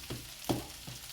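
Rice tipped into a hot pan with vegetables hisses in a quiet sizzle, broken by two or three soft stirring scrapes.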